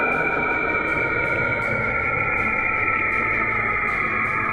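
Sonified space sound attributed to the planet Saturn, an eerie processed drone with strong steady tonal bands and a washy, echoing texture, droning continuously at an even level with no talking.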